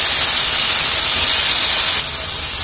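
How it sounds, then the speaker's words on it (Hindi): Potatoes for crispy honey chilli potato fry with a loud, steady hiss of sizzling oil, close and unbroken, easing slightly toward the end. "इसको भी हम भून लेते हैं।"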